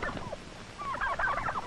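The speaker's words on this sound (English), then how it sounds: "Turkeys are poultry, just as chickens and ducks." Turkeys gobbling on a 1940s poultry farm, a rapid warbling gobble over a noisy, hissy background, with a shorter call first and a louder, longer one after.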